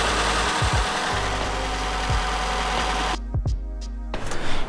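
Engine of a Citroën C15 van running on the move, a steady low drone that carries on throughout, with a few brief clunks and a short dip in the noise near the end before it picks up again.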